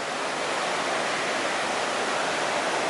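Inside the Volta hydroelectric powerhouse near Manton in Shasta County, California, a loud, unbroken roar of rushing water and machinery fills the space evenly, with no voices.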